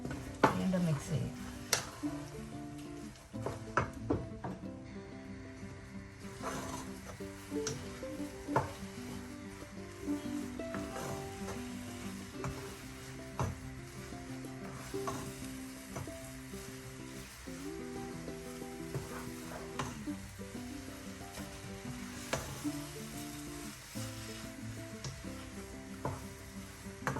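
Semolina upma stirred in a pan with a spoonful of ghee just added, with soft repeated scraping and faint sizzling under a low hum of background music, the stirring strokes recurring irregularly throughout.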